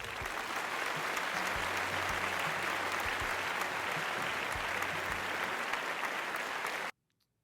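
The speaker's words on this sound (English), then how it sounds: "the crowd goes wild" Studio audience at a talk show breaking into sustained, dense applause with cheering, steady and loud throughout before cutting off abruptly near the end.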